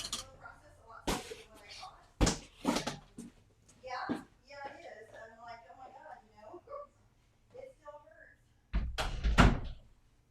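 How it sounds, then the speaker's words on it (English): A door is shut with a few sharp thuds and knocks, scattered among quieter handling noises and someone talking, ending in a louder rattling bump. "give me a quick second, I gotta close the door"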